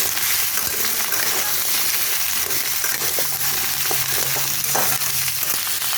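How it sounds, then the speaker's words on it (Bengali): Mixed vegetables for a squash dalna are half-fried in a pan, giving a loud, constant sizzle with scraping and clinking as they are stirred. No voices are heard. "ভালো করে একটু নেড়ে চেড়ে নেব, হাফ ভাজার মতো করে নেব"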